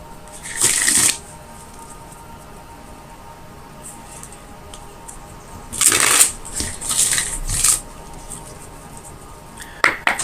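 A tarot deck being shuffled in several bursts of crisp riffling, with quiet pauses between them and a final short flutter of cards.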